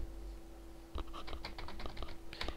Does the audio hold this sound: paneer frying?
no